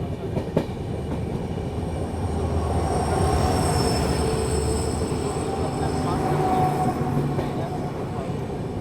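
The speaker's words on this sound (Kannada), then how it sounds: "ಇಲ್ಲಿ ನೋಡ್ರಿ ಇಲ್ಲೇ ನಮಗೆ ಕ್ರಾಸ್ ಆಗೋದು ಬಾಸ್ ಎಕ್ಸ್ಪ್ರೆಸ್." Basava Express passenger train rolling past at steady speed on an outer line near Belagavi, a continuous heavy rumble of wheels and carriages with a faint rail squeal riding above, swelling slightly mid-pass.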